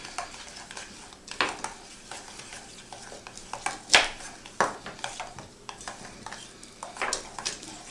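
A spoon stirs homemade horseradish in a bowl, with irregular scraping clinks and taps against the dish, close and moderately loud, no voices.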